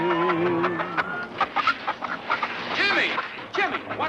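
Chickens clucking in a 1940s western film scene, a busy run of short clucks and squawks with a voice speaking briefly near the start, close and fairly loud.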